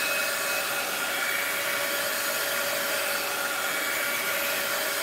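A hair dryer runs steadily at close range while drying coffee filters for crafting angels, a continuous even blowing whine with no pauses or talk.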